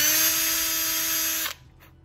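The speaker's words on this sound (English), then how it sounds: "This is just a hole so that the bigger drill bit knows where to go." A power drill bores a pilot hole into a deer antler, a steady loud whine with a tonal hum that runs for about a second and a half, then cuts off abruptly, leaving quiet room tone.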